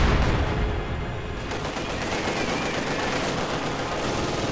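Light machine gun fire from Grenadiers in the strategy game Company of Heroes 2, a dense continuous rattle of rapid shots amid battle noise, moderately loud for several seconds.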